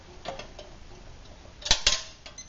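A Swedish Army mess kit being set down on a stove gives a few light metallic clinks and taps, with two sharper knocks close together near the end.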